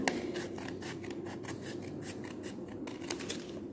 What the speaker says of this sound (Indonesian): Kita gunting sesuai dengan bekas lipatan yang tadi.